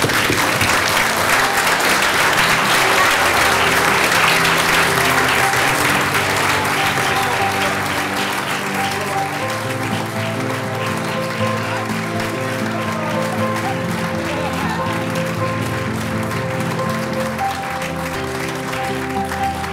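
A large audience breaks into sustained, loud applause for a speaker at a forum on Maine's juvenile justice system. The clapping stays dense and steady throughout and softens slightly toward the end, with voices faintly mixed into the crowd.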